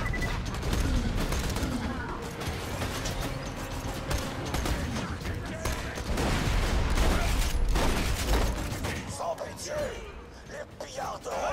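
Borderlands 2 gunfire, a powerful weapon firing several shots in a fast, continuous stream of cracks and mechanical clatter, loud and sustained.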